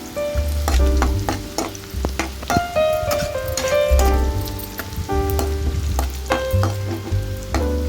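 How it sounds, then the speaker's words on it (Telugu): Dried shrimp fry in hot oil over medium heat, giving a close, crackling sizzle broken by stirring scrapes. Tonal background music plays throughout. "ఎండ్రాయిలు నూనెలో 1 నిమిషం వరకు వేగాలి. అవి మాడకుండా వేపుతూ ఉండాలండి."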